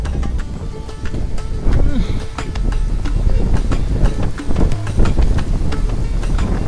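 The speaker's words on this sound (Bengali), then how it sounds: "কি পরিমাণ ঝড়, কি পরিমাণ বাতাস হচ্ছে দেখেন।" Strong storm wind blows hard in gusts, roaring and buffeting the microphone with rattles and knocks, loud and continuous, while a voice talks over it.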